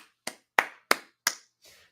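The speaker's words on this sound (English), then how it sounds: "let's give ourselves a round of applause." Four crisp, separate hand claps ring out close and fairly quiet at an even pace, followed by a softer fifth, from a livestream host applauding alone.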